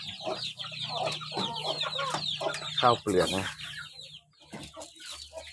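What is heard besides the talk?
chickens clucking while being fed paddy rice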